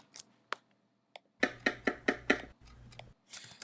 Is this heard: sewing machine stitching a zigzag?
no